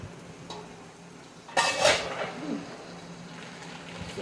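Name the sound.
pot and pasta being stirred on the stove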